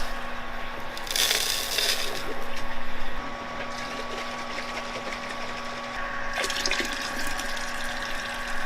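Brewing water for a four-hop IPA homebrew is mixed with water chemicals in a container. Two bursts of splashing and stirring, one early and one late, sit over a steady low electrical hum, close and moderately loud.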